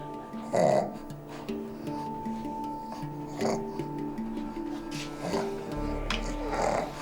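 A tired goat in stage one of labour breathes heavily and laboriously, with repeated close groaning, snorting breaths over a few seconds.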